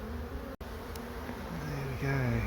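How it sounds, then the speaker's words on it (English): Honey bees from a colony in a deep cavity under a bath drone in a continuous close buzz, with a brief dropout and a few rising wingbeat tones. "at the moment there's a wall of bees"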